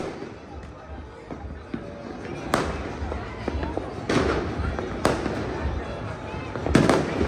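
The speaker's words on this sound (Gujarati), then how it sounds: "જો ભાઈ અમદાવાદમાં ઉત્તરાયણની આતશબાજી ચાલુ થઈ ગઈ છે." Uttarayan festival fireworks and firecrackers bursting around Ahmedabad at night, with several sharp bangs at irregular intervals over a steady crackling, crowd-like background.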